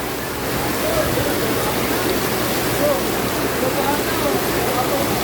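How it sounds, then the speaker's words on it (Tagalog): Heavy rain roars as a dense, constant wash of noise at close range, even in level throughout with no clear breaks. "Ayan, lakas ng ulan."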